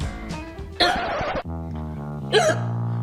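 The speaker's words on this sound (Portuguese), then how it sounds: "Você ainda tá soluçando?" In an animated children's story, a girl with a stubborn case of hiccups gives two sharp, sudden hiccups over a steady backing of music, each a short bright burst.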